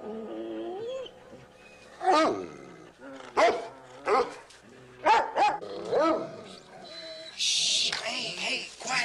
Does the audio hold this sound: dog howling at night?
yes